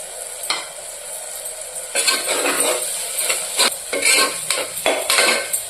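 Chilli powder, turmeric and chopped coriander fry in a pan for Rayalaseema mutton curry, stirred with a spoon: a soft sizzle at first, then scraping strokes and metal clinks building into a busy, close, rhythmic stirring with no talk.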